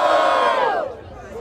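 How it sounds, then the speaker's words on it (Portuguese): Crowd at a Brazilian freestyle rap battle in Barueri roars and shouts loudly and continuously, the noise tapering slightly toward the end of the brief burst. "Barulho para cima do Cris e Leozinho."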